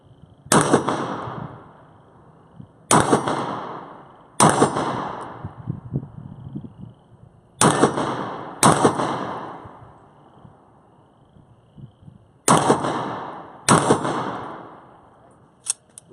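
Seven sharp TCM pistol shots at steel targets, each a crisp loud crack followed by a ringing metallic decay, fired in irregular pairs and singles over about fourteen seconds, with no talking.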